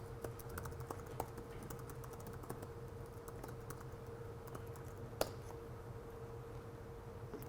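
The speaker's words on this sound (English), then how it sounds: "So I'm just going to type in this command and see what happens." Quiet keystrokes on a computer keyboard as a command is typed, a soft uneven patter of clicks with one sharper key tap near the end, under a steady room hum.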